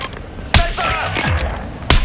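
Gunfire from an enemy machine gun in the video game Warzone: two loud sharp shots stand out, with busy in-game action and noise between them.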